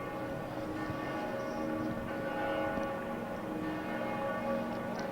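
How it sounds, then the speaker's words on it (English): Steady, resonant ringing of basilica church bells tolling at Pope Francis's funeral, with sustained overlapping tones, fairly distant and continuous, under a general crowd ambience. "We hear the bells tolling."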